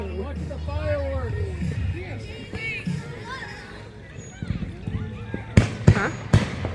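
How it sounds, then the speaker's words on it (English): Multicolored fireworks burst in a 2025 display, a few sharp booms landing close together near the end while people chatter and exclaim throughout. "Look at the fireworks."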